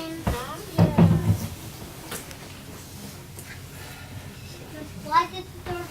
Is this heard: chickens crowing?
no